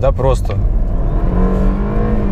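A BMW 320i F30 turbo accelerating hard from inside the car, a loud steady engine drone that climbs in pitch after a brief spoken phrase at the start.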